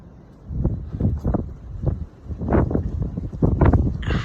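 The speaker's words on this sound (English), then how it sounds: "Crazy, insane wind again today." Strong, gusty wind blows outdoors at a sawmill site, buffeting the microphone in uneven rushing surges that swell and fade over a low steady roar, with no talking.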